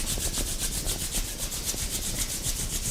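Palms rub briskly together during a self-massage, giving a soft, close, continuous swishing friction with a quick back-and-forth pulse and no talking.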